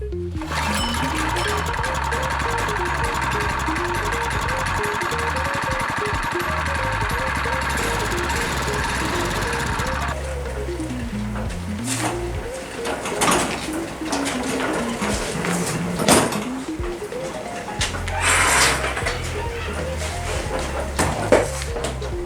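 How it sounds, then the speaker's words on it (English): A Yerf Dog go-kart's small engine running steadily, a buzzy mechanical drone with a wavering pitch, close by, holding for about ten seconds before it becomes rougher with intermittent knocks and revving bursts. "It does have a running engine though."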